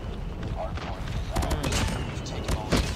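A PPSh-41 submachine gun in a shooter video game rattles off rapid bursts of automatic fire in quick clusters, loud and close, while someone talks over the shooting.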